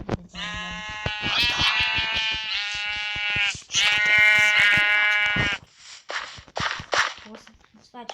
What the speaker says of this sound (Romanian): Uite, oaie. Mă duc după oaie.